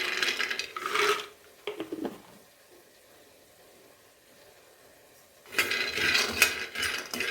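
Half a cup of peanuts rattles into a pan, a bright gritty burst at the start and again near the end, with a quiet lull between as they begin to roast.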